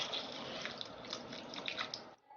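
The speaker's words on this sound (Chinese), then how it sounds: "然后倒入1大碗清水" Clean water pours into a large bowl holding husked corn and a spoonful of salt, a faint, steady splashing trickle that runs for about two seconds and then stops abruptly.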